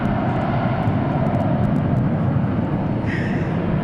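A Gulfstream G280 business jet at Dallas/Fort Worth International Airport gives a loud, steady, broadband roar that fills the whole stretch, with no speech over it.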